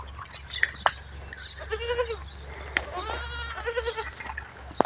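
Goats on a home goat farm bleat several times nearby, wavering calls overlapping with thuds and rustling from the pen.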